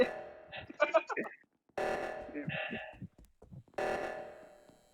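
In the Among Us video game, the reactor meltdown alarm blares in repeated long buzzing bursts, with voices chatting excitedly between and over the blasts.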